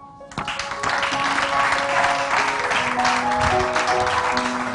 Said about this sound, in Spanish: vamos a agradecerles su conversación con un aplauso